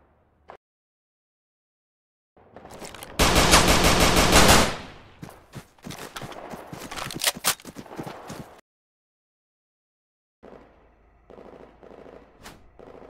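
Heavy automatic gunfire in a war video game: a dense, loud machine-gun burst, then scattered bursts of shots, and a quieter stretch of rumbling battle ambience after a short silence.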